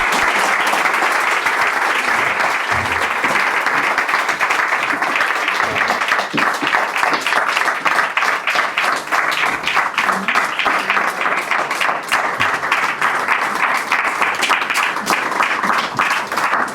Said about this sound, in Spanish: Y una salva de palmas para ellos.